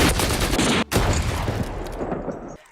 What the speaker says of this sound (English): the shot of the gun, or in most cases, many guns